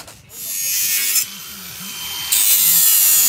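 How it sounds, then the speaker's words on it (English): Metal joist hangers on a 5 by 3.5 metre garden room floor frame are notched with a power tool, a harsh continuous cutting whine in two sustained passes with a short pause between. "Just notching the joist hangers there so that we can bend them over."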